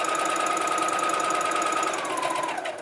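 A sewing machine stitches a lace wig cap together, running in a steady, fast, close-up whir that holds for nearly three seconds before slowing and fading slightly at the end; no voices.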